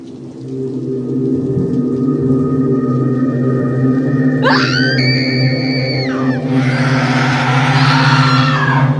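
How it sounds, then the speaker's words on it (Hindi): A woman's high, sustained scream from a haunted mansion at night cuts in partway through over a steady low hum, followed by a harsh, breathy shriek. "अचानक हवेली से किसी औरत के चीखने की आवाजें आने लगीं।"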